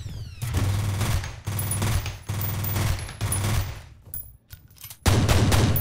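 Rapid bursts of automatic gunfire from the video game F.E.A.R., loud and close, coming in several rattling volleys separated by brief gaps, ending with a heavier burst.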